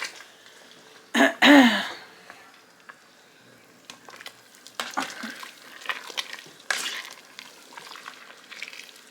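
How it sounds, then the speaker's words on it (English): Cabbage soup being stirred in a pot, with a couple of loud scraping clatters early on followed by softer intermittent stirring and bubbling. "And we'll stir stuff up again."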